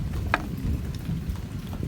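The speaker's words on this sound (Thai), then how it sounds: "ฟ้าก็ลั่นฝนก็ลง" Rain falls steadily outdoors in rural Thailand with a low, rolling thunder rumble underneath, a constant hiss broken by faint spatters and no speech.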